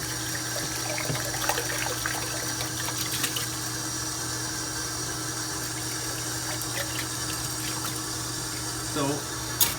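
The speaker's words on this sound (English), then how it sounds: "need to rehydrate the yeast. So that means I have to rinse some stuff off here" Tap water runs steadily into a sink while a container that previously held hops is rinsed out during home brewing, with faint handling clatter and a brief splash near the end.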